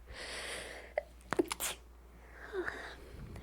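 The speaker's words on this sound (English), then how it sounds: "I have a sneeze." A single sharp sneeze after a short intake of breath, close and quiet, followed by soft breathing.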